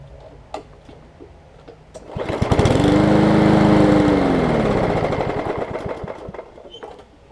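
A Yard Machines push mower with a Powermore engine, running on starter fluid, catches and roars loudly for a few seconds, then sputters and dies back to quiet ticking.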